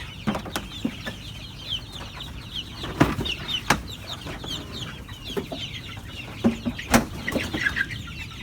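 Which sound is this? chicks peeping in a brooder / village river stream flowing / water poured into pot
chicks peeping in a brooder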